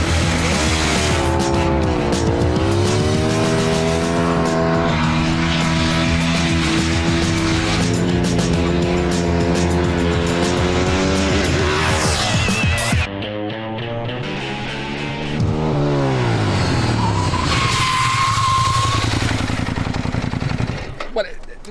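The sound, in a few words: Ducati 1098 motorcycle racing a Lamborghini Gallardo Superleggera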